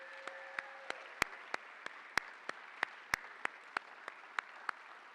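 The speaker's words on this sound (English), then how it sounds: "So let's give them a round of applause." Sparse, slow clapping at an honors convocation for the event organizers: sharp, evenly spaced single claps ring out one after another, each crisp and distinct, over a quiet background.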